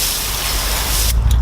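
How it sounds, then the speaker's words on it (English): Water spray rinsing cleaner off the wheels of a Dodge Dart, a steady loud hiss of spray running close by without pause, then a short tail of splashing at the end. "We're going to go ahead and spray this off."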